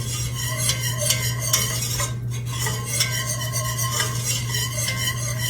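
A whisk stirs flour into melted butter to make a roux for potato soup, a continuous scraping, rasping churn against the pot with a steady low hum underneath and no talking.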